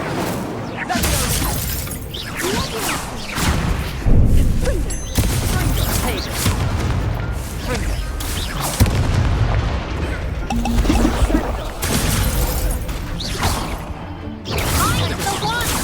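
Hogwarts Legacy spell combat: fiery Incendio spell impacts mix with repeated shattering crashes, booms and whooshes in dense, loud bursts, with voiced spell incantations between them.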